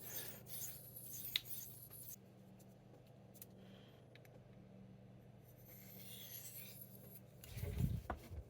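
A knife blade drawn across Spyderco pocket sharpening stones, soft repeated rasping strokes close by and fairly faint, with a louder scrape near the end.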